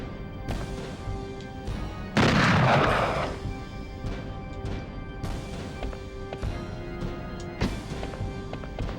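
Gunfire from the PS1 video game Hellboy: Asylum Seeker, with one heavy booming blast that decays over about a second, followed by sharper, quieter shots and clanks over a low game background.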